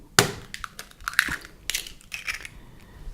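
Eggs are cracked into a bowl while making gingerbread, with a sharp crack followed by a run of crunchy, crackling shell and tapping noises, close and fairly loud.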